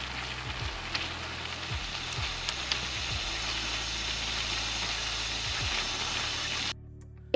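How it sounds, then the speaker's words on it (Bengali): Potato fingers frying in hot oil over a medium-low flame, a steady dense sizzle with occasional small pops, continuous and close, cutting off abruptly near the end. "এই ফিঙ্গার্সগুলোকে সোনালি রং ধরা পর্যন্ত ভেজে নেব"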